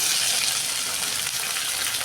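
Steady, close sizzling and crackling of potatoes frying in a hot pan, with no talking.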